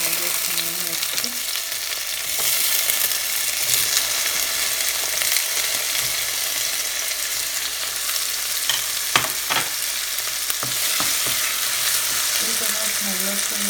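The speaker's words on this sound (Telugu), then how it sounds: "స్మెల్ పోయే వరకు నేను ఫ్రై చేస్తాను" Green chili fried in a pan while making white sauce, a loud, steady, hissing sizzle with occasional stirring scrapes, close up and continuous.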